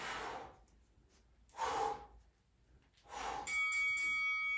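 Heavy breaths after a Tabata workout for runners come in three loud, long, close exhalations spaced about a second and a half apart, followed by a short electronic beeping tone.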